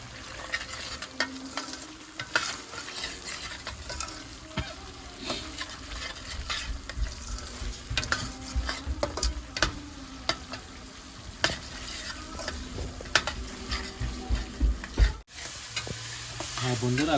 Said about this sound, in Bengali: মশলাটাকে কষিয়ে নিব।